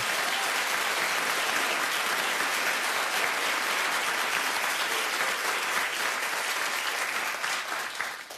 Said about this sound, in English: Clap if you believe in redemption.